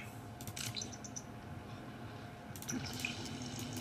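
Water runs and splashes from a tap in The Sims 4, as when a Sim takes a drink, giving a steady faint trickle with small clinks and a brief louder splash near the end, with no voices.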